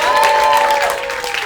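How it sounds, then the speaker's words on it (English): A comedy club audience applauds the show's host, a short burst of loud clapping with a speaking voice running over it. "I think this is a wonderful time to give Sesh a big round of applause for hosting me tonight."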